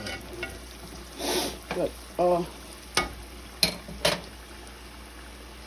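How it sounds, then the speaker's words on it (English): Ground beef browning in a pan, with a soft continuous sizzle under intermittent scraping and stirring strokes of a utensil against the pan, plus a few sharp clinks; a voice briefly speaks once. "I don't put anything in my hamburger when I first start browning it"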